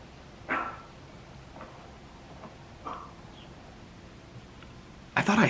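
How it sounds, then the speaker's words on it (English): A dog's barks play from a video on a phone, a few faint, spaced barks over quiet background hiss, then a sudden louder burst of noise at the end. "This is Otis, Walter finding his bark."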